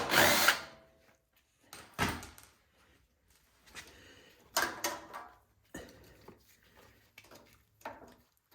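Power drill working the carburetor bolts on a snowblower during small-engine repair, sounding in several short close bursts of whirring separated by brief pauses.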